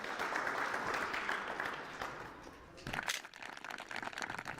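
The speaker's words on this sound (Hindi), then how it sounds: "एक बार फिर से जोरदार तालियां" An audience gives loud applause, a dense steady wash of clapping that thins slightly midway and then swells again, heard at moderate distance.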